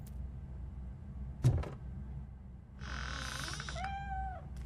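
A cat in RoboCop Rogue City lets out a drawn-out meow near the end, after a sharp knock and a brief mechanical whirr, over a low steady game ambience with no talking.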